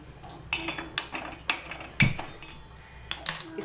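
A pressure cooker with a flat base is set onto a thick iron griddle on a gas stove, producing a series of sharp metallic clanks and clinks, close and fairly loud, spaced irregularly.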